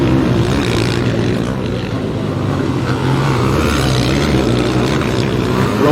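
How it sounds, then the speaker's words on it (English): A light KTM sidecar motocross motorcycle races at the Kramolin GP with its loud, constant engine roar and the mixed drone of other machines, with no pause. "Tim Brummer on the KTM, the very light KTM."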